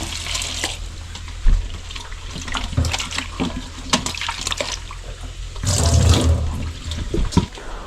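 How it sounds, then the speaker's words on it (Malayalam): Water gushes and splashes into a pot of Kerala chicken curry in an uneven stream, swelling into a louder rush near the end; no one speaks. "നമുക്കിത് നല്ല വെള്ളം ഒഴിച്ചൊന്ന് സെറ്റാക്കുക"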